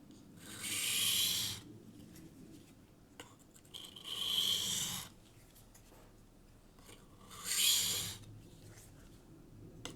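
A knife is drawn by hand across a diamond sharpening stone in three separate rasping strokes, each a short gritty scrape with quiet pauses between them, close and fairly soft.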